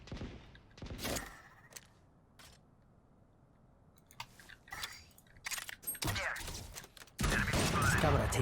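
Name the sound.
gunfire shooting out a tripwire in the video game Valorant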